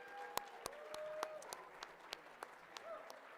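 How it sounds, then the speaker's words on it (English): Sparse, scattered hand claps from an audience at an auction gala, faint and irregular, with a few distinct claps over a quiet room. "Give yourselves a big round of applause."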